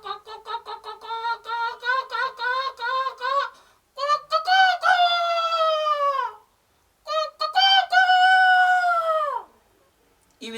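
A voice imitates a rooster crowing, with rising staccato calls followed by long drawn-out crows, repeated loudly and up close with short pauses between.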